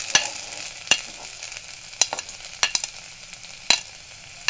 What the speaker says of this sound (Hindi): तेल हमारे गर्म हो चुके हैं। अब हम इसमें डालेंगे लहसुन